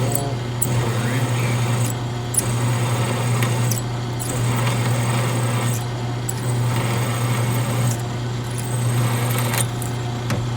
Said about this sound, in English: We'll swap out the flat bar and drill our last 1/4 inch hole.